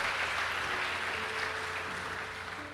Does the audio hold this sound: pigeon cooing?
no